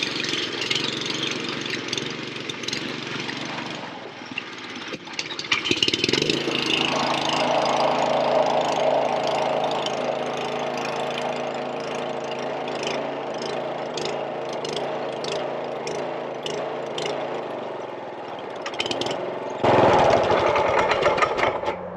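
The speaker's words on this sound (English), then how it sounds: "the go-kart kind of grunts whenever I'm in it" A go-kart engine runs continuously nearby with a rough, grunting drone. Its pitch shifts as it revs partway through, then a louder burst comes near the end.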